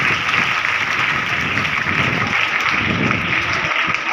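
Steady applause from a large audience of about a thousand girls gathered at a child-welfare awareness event in Haryana, continuous and even throughout with no pauses.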